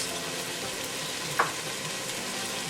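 Peppers and mint leaves fry in a pot as the base for a Guyanese fish broth, giving a steady, close hiss of sizzling oil with one brief clink partway through.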